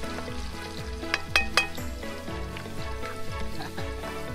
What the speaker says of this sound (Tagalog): Inisan natin ang sibuyas, bawang, at luya.